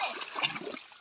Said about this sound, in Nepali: यहाँबाट पानी खोलिसकेको छौँ पानी जाँदैछ